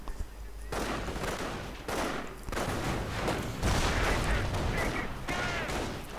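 In a World War II real-time strategy game, machine guns and rifles fire in rapid bursts near a cemetery, with dense crackling volleys and distant explosions layered throughout, loud and continuous.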